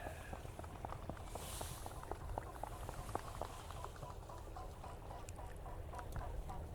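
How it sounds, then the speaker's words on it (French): Geese taking off from the water just behind a jetty, a rapid run of pattering splashes and wingbeats with honking calls, moderately distant over a steady watery background. "Des oies sont en train de s'envoler juste derrière."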